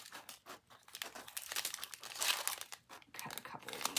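Plastic packets from a round diamond painting kit crinkle and rustle up close while being cut off, in irregular bursts of crackling with brief pauses, no talking over it.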